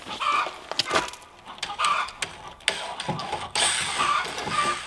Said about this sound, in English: Noisy chickens today.